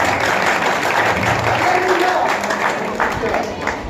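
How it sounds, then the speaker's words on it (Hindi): Church congregation at a feast-day service for St Francis of Assisi and the coronation of Mother Mary, applauding in a steady, dense wash of clapping across the whole clip, with speech mixed in beneath. "एक बार फिर जोरदार तालियां।"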